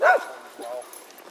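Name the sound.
dog barking on a hiking trail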